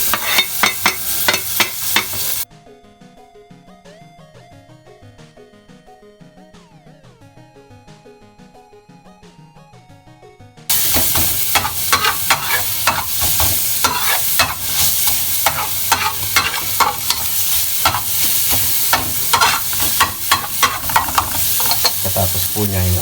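Garlic frying for chopsuey and being stirred, loud crackling sizzle with scraping strokes, dropping to near silence for several seconds before surging back even louder.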